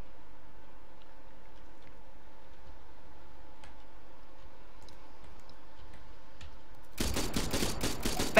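Automatic gunfire in the military shooter game ArmA 3, fired through houses: a quiet ticking stretch gives way near the end to a loud, rapid burst of closely spaced shots.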